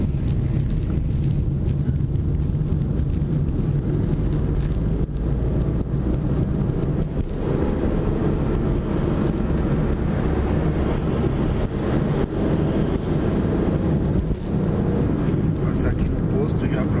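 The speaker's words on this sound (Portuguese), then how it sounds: "Hoje nós vamos de carro." A car on the road on an overcast day fills the space with constant low engine and road rumble, steady and fairly loud throughout.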